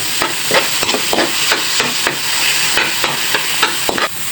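Ground meat sizzles in a pan for pinakbet with squash as a utensil scrapes and stirs it in a steady repeating rhythm, close and fairly loud, with no talking.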